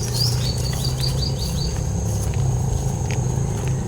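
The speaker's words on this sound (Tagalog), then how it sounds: "May ibon." Short, high bird chirps repeat in a quick run over the first couple of seconds, set against a steady outdoor rumble and traffic-like noise.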